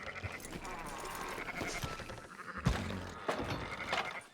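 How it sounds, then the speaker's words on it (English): Sheep bleating in the open-world video game Red Dead Redemption 2, several calls rising over a busy layer of ambient game sound with occasional hoof-like knocks, at moderate distance. "Fine sheep."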